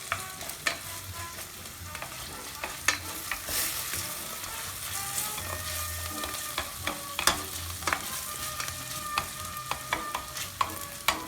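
Pancetta or bacon frying steadily in a pan alongside onions, a continuous dense sizzle broken by frequent sharp spits and pops, close and fairly loud with no talking.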